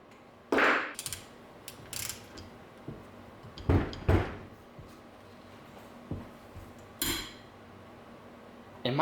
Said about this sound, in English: Alright, it's time to break out the breaker bar. A full-blown breaker bar on this head.